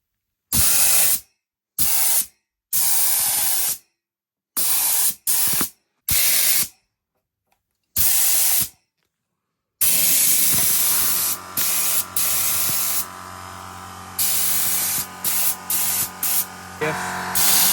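A paint sprayer blows air and paint in loud, close hissing bursts that cut on and off, then settles into a long steady spray with a mechanical hum beneath it and a few brief interruptions.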